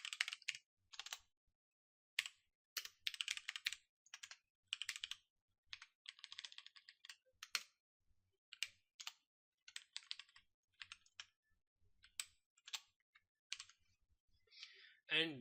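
Code being typed on a computer keyboard, quick bursts of crisp, close key clicks separated by short pauses, faint and alone in a quiet room.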